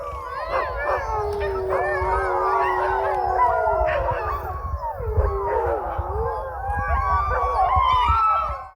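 Pointer dogs howl together in a loud, overlapping chorus of rising and falling wails with scattered yips, continuous and close throughout.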